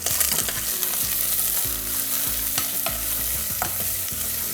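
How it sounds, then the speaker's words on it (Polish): Thick sausage pieces frying with onion toward a golden colour, a dense continuous sizzle with clattering stirring knocks and spatula scrapes, close and loud. "I takie grube kawałki dorzucę do cebuli. Wszystko przesmażę na złoty kolor."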